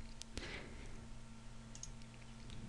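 A computer mouse clicks while a benzene ring is placed in a chemistry drawing program; one sharp, close click stands out early over a steady low hum, followed by faint small ticks.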